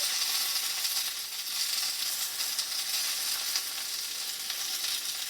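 A potato-crusted flounder fries in a pan with butter, giving a steady, loud, close sizzle that holds evenly throughout with no talking.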